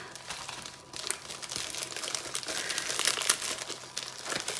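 A small plastic bag from a diamond painting kit is opened up close, giving off continuous crisp crinkling and rustling with small snaps, faint and steady, with no talk.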